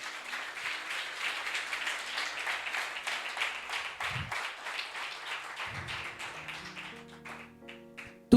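A church congregation applauds during a sermon, steady dense clapping that carries on for several seconds before thinning out and stopping near the end.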